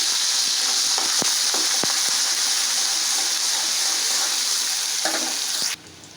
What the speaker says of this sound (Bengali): এটার মধ্যে দিয়ে দিচ্ছি হাফ কাপ পরিমাণ রসুন কুচি